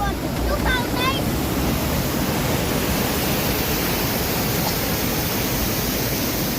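Ramboda waterfall in Sri Lanka roars as a dense, steady rush of falling water, loud and close, with brief faint bird chirps near the start.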